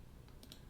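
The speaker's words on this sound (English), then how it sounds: "holding down V on the keyboard, let's snap onto this A pillar" Faint, quick clicks of the V key being pressed on a computer keyboard during 3D car modeling work, two or three short taps close together against a quiet background.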